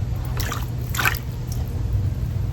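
Water drips and splashes as exposed orchid roots are wetted before mounting on cork, a few soft wet bursts spaced about half a second apart over a steady low background hum.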